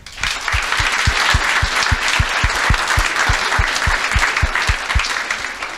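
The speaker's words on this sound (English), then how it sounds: "Applause." A crowd applauds loudly at the opening of the Agile Latvia conference. The dense clapping holds steady for about six seconds, with rhythmic low thumps running underneath.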